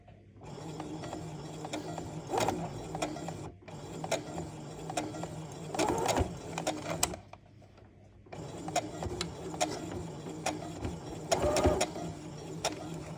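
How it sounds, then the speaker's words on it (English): A sewing machine stitches two dress pieces together in bursts of rapid mechanical whirring, stopping briefly between runs, close and fairly loud with no voices. "just going to sew the two pieces together now"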